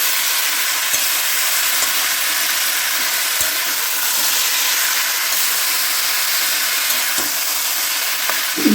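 Katla fish curry with bottle gourd stems and ridge gourd cooks in a pan, giving a steady, loud, close sizzle and bubbling hiss that runs on without a break.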